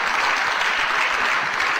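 A crowd applauding at an indoor bowls match in Sheffield, a dense, steady burst of clapping that fills the hall throughout, with no voices heard.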